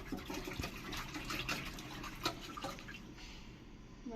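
Water splashes and sloshes steadily while a betta fish tank is rinsed out, a continuous close washing sound with small drips and swirls and no talking.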